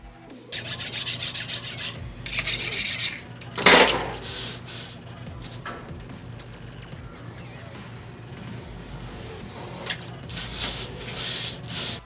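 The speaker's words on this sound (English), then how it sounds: "I want to bevel the bottom part of this." The bottom edge of a cosplay lancer prop is bevelled with close, raspy rubbing and filing strokes in uneven bursts, loud at first and then softer and steadier.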